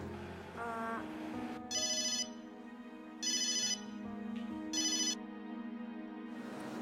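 A phone ringtone with a bright electronic melody plays in three loud bursts at steady intervals, over a sustained background tone, with no talking.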